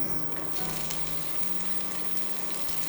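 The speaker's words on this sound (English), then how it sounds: "the garlic's starting to get golden brown, and this is the perfect time to add the onions." Garlic frying to golden brown in a pan, a constant soft sizzle and crackle with faint stirring, quiet and close, with no talking.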